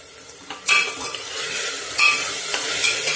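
A spoon stirs washed whole green moong with a little salt in a pan, scraping in a few loud sweeps against the metal with a light sizzle underneath.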